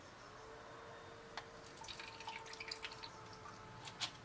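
Blue liquid face mask dripping from its container: a quiet scatter of small, irregular drips over a faint steady background, with no talking.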